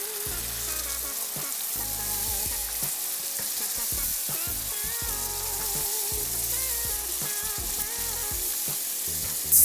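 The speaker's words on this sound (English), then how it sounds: "I'll just saute this on medium heat for about 1 minute." Minced garlic and canned tomato sauté in a pan over medium heat for butter chicken, giving a loud, steady sizzle that runs unbroken from start to finish with no talking.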